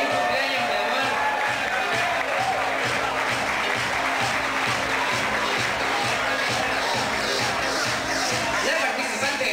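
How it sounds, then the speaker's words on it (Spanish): An audience at a disco beauty-queen contest gives a contestant steady, loud applause with cheering and crowd babble mixed in, a sustained wash of claps heard up close. "quiero un muy fuerte aplauso para ella"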